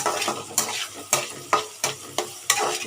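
Curry being fried in a pan until brown, with a crackling sizzle broken by sharp, regular scraping stir strokes roughly every half second, close and loud, no voices.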